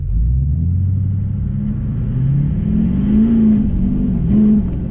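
A compound-turbo vehicle accelerating from a slow roll under throttle, with a loud, steady engine drone that rises in pitch throughout.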